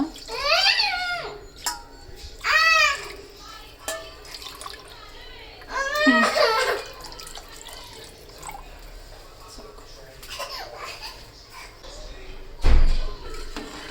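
Water pours and splashes into a pot of chicken biryani with curd and tomato nearby while a person talks intermittently over it, ending with a dull thump.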